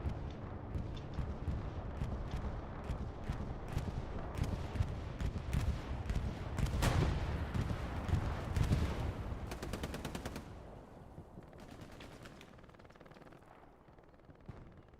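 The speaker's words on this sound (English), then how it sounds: "Here come the bombs." Bombs fall during a Hell Let Loose scrim match, heard as a dense wash of booming explosions and crackling gunfire. It rolls on loudly for about ten seconds, then thins out into a quieter, fading rumble.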